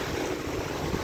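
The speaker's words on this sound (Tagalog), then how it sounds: "Ayan yung alon talaga." High-tide surf at Lawis beach washes in as a brief, steady broadband roar of breaking waves, fairly close, with no voices.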